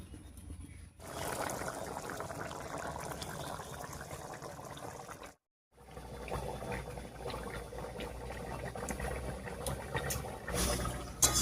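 A pot of chicken curry with taro bubbles and burbles at a steady boil, close and wet, with a brief silent gap midway before the simmering resumes.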